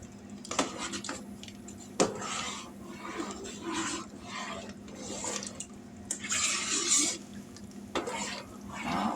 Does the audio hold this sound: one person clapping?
no